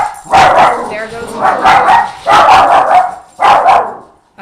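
An indoor dog barks repeatedly at noisy neighbours downstairs, four loud close bursts of deep woofs in a steady rhythm with short gaps.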